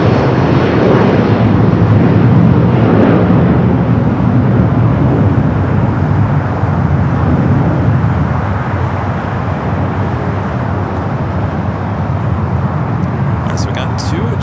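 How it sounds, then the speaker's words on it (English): A United Boeing 757 airliner takes off down runway 25 right at LAX, its jet engines a steady, loud broadband roar that holds throughout, with a commentator talking over it. "We do have a United 757 at 300 now, rolling down that 25 at right."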